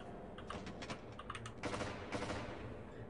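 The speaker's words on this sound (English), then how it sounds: "Now they shot him." Gunfire in the Half-Life video game crackles in rapid, uneven bursts of sharp clicks over about three seconds, fairly faint and with no speech.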